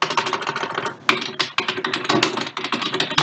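Rapid, steady keystrokes on a computer keyboard as a nursing affiliation is entered into a document, close and fairly loud with brief pauses and a few harder key strikes.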